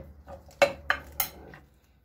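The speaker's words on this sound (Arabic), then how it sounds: "بعدين بجيب صحن وبقلب البرتمان عليه" A glass jar of makdous, eggplant layered with bulgur and light sprinklings of salt, is turned upside down onto a plate, giving a few sharp knocks of glass on ceramic close by with no talking.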